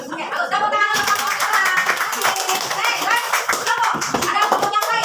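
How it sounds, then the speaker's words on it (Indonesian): A classroom group of teachers in a coaching practice session claps for another group, quick scattered hand claps mixed with lively chatter and children's voices throughout, close and fairly loud. "tepuk tangan untuk kamu."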